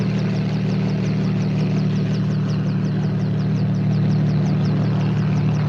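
A helicopter's engine drones continuously with a steady low hum and rhythmic rotor chop, loud and unbroken throughout.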